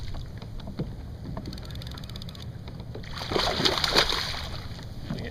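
A hooked fish thrashes at the surface beside a kayak in the sea off Pukerua Bay, making a close burst of splashing and sloshing water midway through after quieter lapping and hull knocks.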